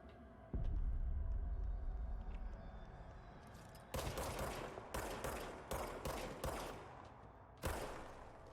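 Gunfire from a weapon in the video game Control, an opening heavy blast followed by a series of sharp, loud, evenly spaced single shots, close and alone.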